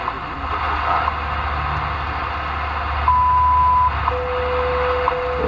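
A steady tone pulses through hiss and static on a shortwave radio tuned to 15 MHz, with brief ticks and long beeps from the WWV time signal station, fairly faint.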